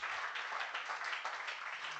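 A church congregation applauding in steady, moderately loud clapping that continues for about two seconds with no pauses.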